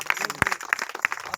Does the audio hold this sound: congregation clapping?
yes